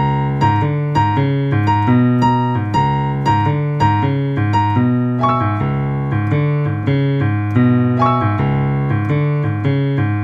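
The riff is played on piano at full speed, a brisk, steady loop of bass notes and melody repeating closely and clearly, with no voices over it.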